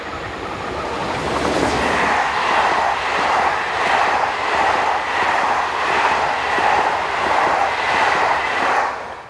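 An SNCF BB15000 electric locomotive passes near Foucart-Alvimare. A loud, sustained rolling roar carries rhythmic wheel clatter over the rail joints, steady throughout, then fades slightly at the end.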